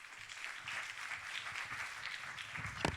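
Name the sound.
audience applauding a speaker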